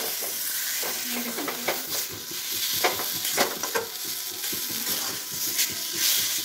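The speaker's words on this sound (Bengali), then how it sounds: "এটাকে বেশ সুন্দর করে লাগা লাগা করে ভাজতে হবে" Mashed boiled potato frying in a pan, a steady sizzle broken by uneven scraping and stirring strokes of the spatula, fairly close and moderately loud, with no talking.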